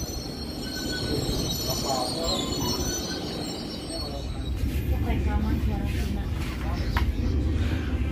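A local commuter train pulls out of Gedebage station in Bandung, its wheels squealing in sustained high-pitched tones over a steady rolling rumble, heard from on board with brief background voices.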